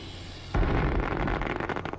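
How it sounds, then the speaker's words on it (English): A firework in the Astroneer video game bursts with a loud, sudden boom about half a second in, then a crackling, rumbling tail that fades gradually, with no talk. "This is a firework and serves no real purpose except for this."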